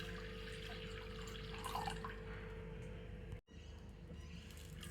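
Water poured from a glass into a pressure cooker holding jowar in a Maharashtrian kitchen, a steady close trickle and splash that carries on for several seconds, cuts off briefly, then resumes.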